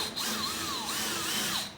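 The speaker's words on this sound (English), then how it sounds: "So, we'll drill a couple of pilot holes" A power drill bores pilot holes into a wooden cross member of an Adirondack chair in a wood shop, its high motor whine rising and falling in pitch as the bit bites, steady and close.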